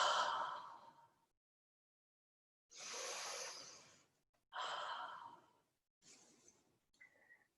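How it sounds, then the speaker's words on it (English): Slow deep breaths during a yoga session: three long, airy inhale-exhale swells separated by quiet gaps, close and soft, followed by a faint short breath at the end. "3 deep breaths."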